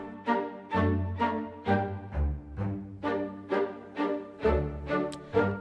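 Music from the card-cheating game Card Shark by Netherworld plays as a rhythmic, plucked melody over a bass line, with evenly spaced notes in a steady pulse and no voices.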